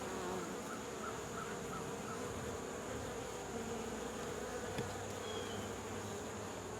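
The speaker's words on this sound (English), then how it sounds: "Few bees." A few bees buzz around a hive's top section being readied for cold weather, a steady soft hum of wings under faint background noise.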